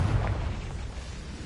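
Confringo blasting curse explodes in Hogwarts Legacy, a deep rumbling boom that starts strong and rolls on as a sustained low roar without speech.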